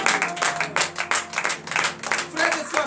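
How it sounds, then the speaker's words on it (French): Congregation at a morning prayer gathering clapping in acclamation, quick uneven bursts of hand claps close by, mixed with voices calling out. "Donnez de vive acclamation à l'Éternel."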